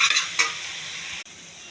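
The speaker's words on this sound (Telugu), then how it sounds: "పెట్టుకున్న పాలకూర, ఇది కొంచెం బాగా కలపాలండి" Spinach (palak) is stirred in a frying pan, giving a short burst of soft scraping and hissing fry noise with a couple of stirring strokes, close and fairly quiet.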